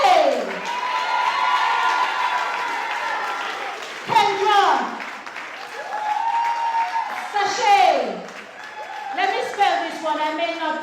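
An audience claps for departing pupils at a primary and infant school leaving ceremony, the crowd noise rising and falling while a voice calls out over it and children shout now and then.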